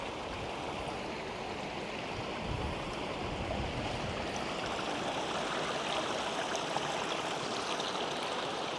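A raging stream rushes across a coastal path toward a golden-sand beach, its broadband roar steady and close throughout with no voices.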